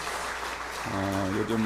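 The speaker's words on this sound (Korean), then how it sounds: "축복의 박수 한번 다시 한번 보내주실까요?" A church congregation in a Korean worship service gives steady, moderate applause, which fades as a voice starts speaking over it.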